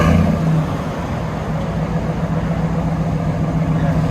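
A RAM 1500 pickup's 5.7L HEMI V8 idles through a straight pipe exhaust, a loud, deep and steady rumble close by, with a slight rev at the very start before settling into an even idle.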